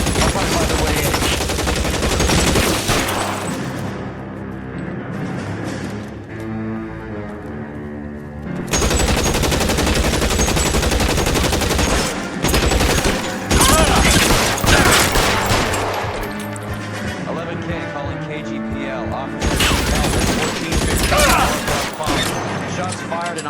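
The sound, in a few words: gunfire in video game L.A. Noire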